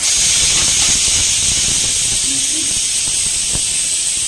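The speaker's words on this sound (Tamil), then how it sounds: "இந்த தக்காளியும் வெங்காயமும் நல்லா வந்து வதங்கட்டும்." Tomatoes and onions sautéing in a pan, a loud, steady sizzling hiss that holds evenly throughout, close and uninterrupted.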